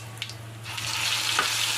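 Mustard seeds, cumin and asafoetida crackling in hot oil heated for a sponge gourd curry, a close, steady hiss with a few sharp pops that grows fuller toward the end.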